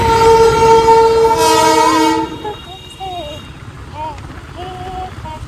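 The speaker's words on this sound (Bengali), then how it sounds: "বাঁদিকে দেখলাম টয় ট্রেন একটা দাঁড়িয়ে আছে" A toy train engine near Ghum station gives a loud, sustained horn blast for about two seconds. Fainter rumbling and rail noise follow, with people talking and chatter in the background.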